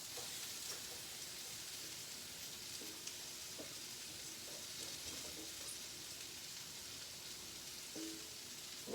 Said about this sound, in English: I'm going to go ahead and put my broccoli in the skillet with the carrots and onions and stuff now